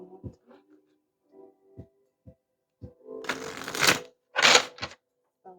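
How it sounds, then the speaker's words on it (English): A deck of oracle cards is shuffled and handled, with soft taps and flicks early on, then two bursts of papery riffling shuffles near the end. "Shuffle one more"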